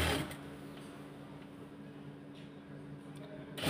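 A sewing machine stitches pajama fabric with a steady, even motor hum and a faint rhythmic ticking, close by, with a louder bump at the start and end.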